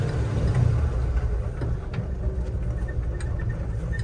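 A 1981 Jeep CJ-7 Laredo with a 4-speed holds about 2,000 RPM while crawling at low speed, giving a steady low engine drone heard from inside the vehicle, moderately quiet and unbroken.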